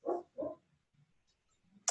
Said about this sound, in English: Excuse my dog, everybody.